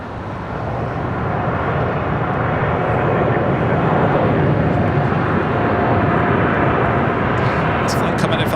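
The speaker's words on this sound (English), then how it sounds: "This flight coming in from Miami, Florida. American Airlines flight 862. 787-8 Dreamliner." An American Airlines Boeing 787-8 Dreamliner arriving from Miami lands at LAX, its broad engine roar building and holding loud and steady, with voices faintly present beneath.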